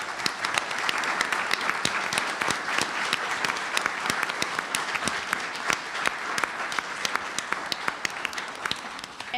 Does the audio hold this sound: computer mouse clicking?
no